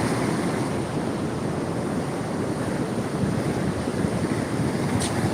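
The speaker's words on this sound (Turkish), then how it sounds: "Dalganın büyüklüğüne baksanız arkadaşlar." A steady, roaring wash of large ocean waves breaking, with heavy wind buffeting the microphone, loud and unbroken throughout.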